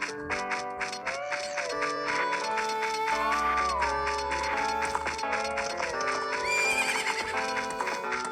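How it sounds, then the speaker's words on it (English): Horses neigh and whinny with clip-clop hooves in the video game Zelda: Ocarina of Time, set against steady, loud game music throughout. "Whoa, these horses are gonna run me over."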